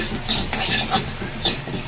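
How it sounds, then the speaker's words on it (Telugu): Sesame seeds roasting in a pan, stirred with a utensil that gives repeated scraping, rattling strokes over a soft sizzle, close and fairly loud. "నువ్వులు అయితే వేయించుతున్నాను"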